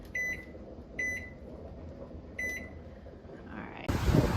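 A digital kitchen timer is set with three short, bright electronic beeps spaced about a second apart over a quiet hum in a home kitchen, followed by a louder clatter at the end.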